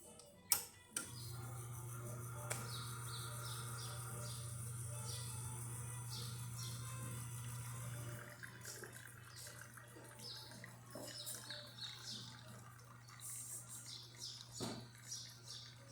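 A Lelit espresso machine pulls a shot after a full service, its pump humming steadily for several seconds before dropping off, followed by quieter trickling and small clicks of coffee flowing, close and moderately quiet.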